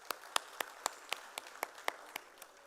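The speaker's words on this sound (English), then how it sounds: "I request a huge round of applause for that" A single person's sparse claps, about ten evenly spaced sharp slaps, fairly faint against a quiet hall background at a business knowledge summit.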